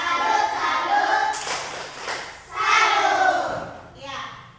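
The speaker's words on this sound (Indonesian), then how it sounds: "tepuk salut untuk kelompok 2" A classroom group clapping a salute cheer together, bursts of rhythmic hand claps mixed with children's chanting voices, loud and close, in two main waves.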